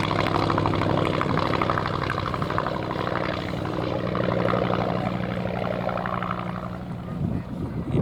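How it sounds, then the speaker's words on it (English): A U-2VS biplane, a black-painted night bomber with iron belly armour, drones steadily overhead at an airshow, its engine a continuous loud rumble holding throughout without pause. "They operated a specialised version of the aircraft known as the U-2VS."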